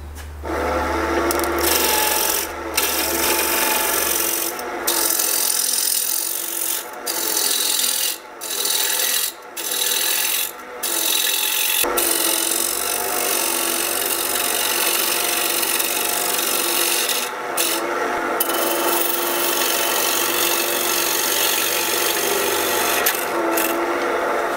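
Wood lathe turning a tenon on an apple-wood base, a steady close scraping rasp of the cutting tool against spinning wood with brief gaps where the tool lifts off, no talking.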